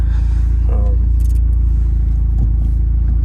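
A Hyundai Genesis Coupe with its ABS and traction lights on from a bad wheel speed sensor drives on a test drive, its engine a loud, steady low drone heard from the cabin with faint rattles and scrapes.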